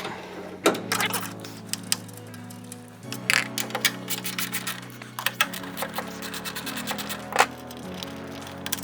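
A ratchet or power tool backs out the two 10mm taillight bolts on a third-generation Toyota Tacoma, with close rapid clicking and whirring runs that shift pitch in several stages, punctuated by sharper knocks.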